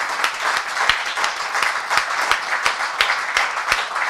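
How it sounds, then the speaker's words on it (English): Audience applause after a talk-show style conversation about same-sex parenting research, a steady wash of many hands clapping with sharp individual claps standing out, fairly close and continuous throughout. "Can we give him a round of applause?"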